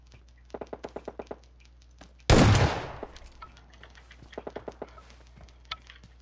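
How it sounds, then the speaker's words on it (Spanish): In the video game PUBG Mobile, one sharp, loud gunshot blast cuts through a stretch of quick, soft clicking taps, and a few scattered clicks follow. "Escucho los disparos, pero no lo veo."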